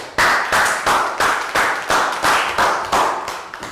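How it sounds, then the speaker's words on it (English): A classroom of pupils claps for a classmate in a lesson, with about eight distinct, fairly loud bursts arriving in a steady, rhythmic beat. "Big round of applause for Dan."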